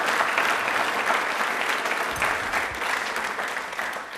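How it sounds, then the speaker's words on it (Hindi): Loud, dense applause from a studio audience for Babasaheb Ambedkar on a Doordarshan Rajasthan quiz programme marking Ambedkar Jayanti, a steady wash of clapping sustained throughout. "एक बार ज़ोरदार तालियां हो जाए बाबा साहब के लिए।"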